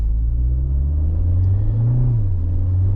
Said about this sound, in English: The traffic here is so crazy.